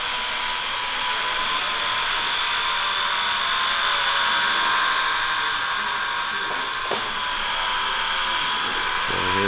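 A Blade 150 FX ready-to-fly beginner RC helicopter flies steadily throughout, its small electric rotor giving a constant high-pitched whine with a faint buzzing hum and a brief knock near the end.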